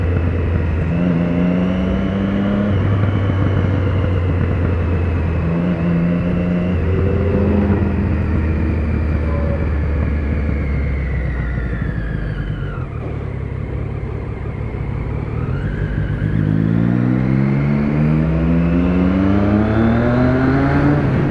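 Motorcycle engine drones steadily while riding, its pitch rising and falling with throttle changes and gear shifts, under a constant rush of wind; loud and close for the full stretch, with no talking.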